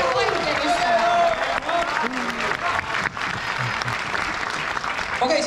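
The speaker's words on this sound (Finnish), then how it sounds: "Hei, otetaan tälle pienet aplodit." Audience applause fills a hall during a 25th-anniversary celebration show for a Finnish TV soap opera, with dense, sustained clapping and cheering close by and a few voices mixed in throughout.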